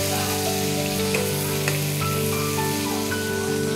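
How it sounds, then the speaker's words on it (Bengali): Potatoes with turmeric and salt frying in a pan over low-to-medium heat, giving a loud, continuous sizzle broken now and then by scrapes of a metal spatula as they are stirred. "আমি ওই একই খুন্তি দিয়ে নাড়াচাড়া করছি আলুটা ভাজা।"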